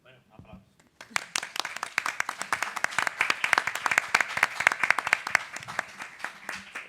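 Audience applause at a Spanish film talk, starting after a brief spoken word and building into sharp, rapid clapping from a modest crowd, fairly close and growing steadily.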